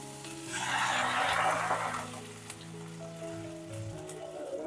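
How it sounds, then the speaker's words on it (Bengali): Vegetables with slit green chillies stir-fried in a pan for beetroot soup, a dense sizzle for the first couple of seconds that fades to a softer crackle with light clinks of stirring, no voices. "এবার চিড়ে রাখা কাঁচা লঙ্কাটা দিয়ে দেব দিয়ে ভালো করে নাড়তে থাকবো সবজিটা ভাজা হয়ে গেছে"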